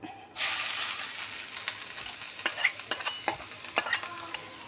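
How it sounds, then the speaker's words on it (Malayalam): Grated carrot drops into ghee in a hot pan and starts a steady close sizzle, with stirring scrapes and light pops over the frying hiss. "നമ്മൾ പാൻ അടുപ്പത്ത് വെച്ച് അത് രണ്ട് ടീസ്പൂണ് നെയ്യ് ഒഴിച്ചിട്ടുണ്ട് ഇനി നമുക്കിതിൽ ക്യാരറ്റ് ഇട്ട് കൊടുക്കാം"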